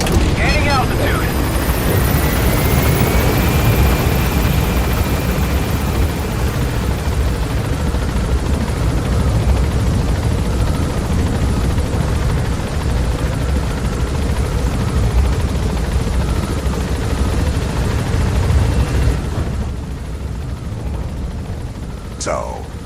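A helicopter in Metal Gear Solid V: The Phantom Pain on PS5 roars steadily as it gains altitude, a dense, loud rotor-and-engine drone that holds for about twenty seconds before thinning slightly near the end.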